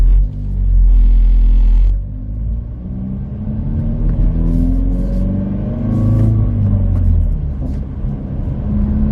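A Hyundai Veloster N fitted with a Boomba rear motor mount accelerates hard from inside the cabin, its loud engine rumble climbing in pitch through several gear shifts, with no talking.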